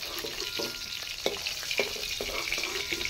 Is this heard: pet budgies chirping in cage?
no